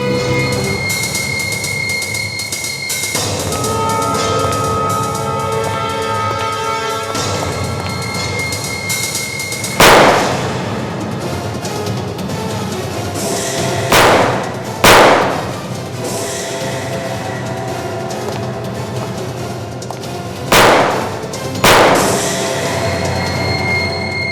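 Gunfire in a village shootout during a police raid, with sharp loud shots arriving in pairs and small clusters over sustained droning dramatic music.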